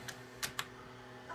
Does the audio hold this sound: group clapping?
no